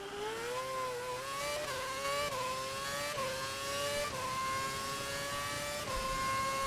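High-revving Formula 1 race car engine from the F1 2011 video game during a race in Korea, a steady loud whine rising in pitch through several gear shifts, with no talking over it.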